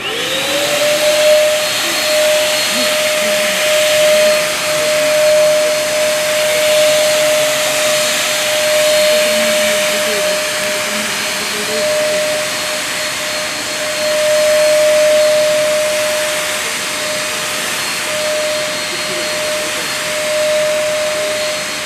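A sanitizing machine runs during a demonstration inside a shopping mall. It makes a loud, steady, airy rushing hiss with a thin constant whine on top that holds unchanged from start to finish, with no talking.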